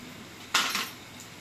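Ginger and garlic being stirred in a cooking pan, heard as a single short metallic scrape of a spoon against the pan over a faint frying hiss.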